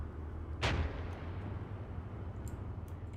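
A single sharp artillery shot booms out in Arma 3, loud and near, then leaves a low rumbling tail and a few faint distant pops.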